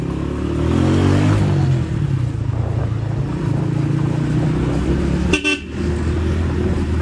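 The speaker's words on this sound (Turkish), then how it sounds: "Korna güzel ama." A car horn honks once, loud and close, over the steady rumble of a running car engine, a motorbike ride in İzmir.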